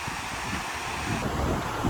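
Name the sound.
wind blowing at Six Flags Magic Mountain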